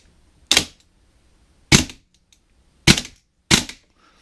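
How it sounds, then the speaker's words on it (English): Four sharp, crisp pops from a Vipertech Centurion Arms M4 airsoft rifle fitted with a VFC hop-up rubber and chamber, fired semi-auto at an uneven pace with short silent gaps between shots, fairly loud and close. "So here's kind of a test fire of the gun."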